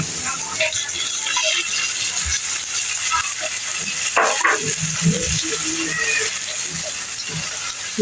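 Ginger-garlic paste and spices for chicken curry sizzle in a pan with a steady high hiss, broken by soft scraping and clinking as they are stirred.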